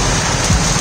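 Heavy rain pours in a dense, steady hiss, loud and close, with no voices over the brief stretch.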